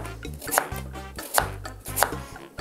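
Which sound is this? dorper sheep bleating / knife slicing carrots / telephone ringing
knife slicing carrots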